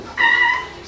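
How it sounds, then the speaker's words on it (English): A short, loud meow from a cat at a door, a single rising-then-falling cry lasting about half a second over light background noise. "This cat is desperately trying to alert the owner to open the door."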